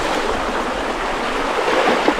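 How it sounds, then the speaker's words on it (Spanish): The Genal river rushes over a rocky, slippery bed, giving a steady, close broadband wash of flowing water that holds even from start to finish. "un río con muchas piedras y muy resbaladizo"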